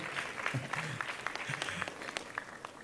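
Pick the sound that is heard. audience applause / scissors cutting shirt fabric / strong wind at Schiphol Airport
audience applause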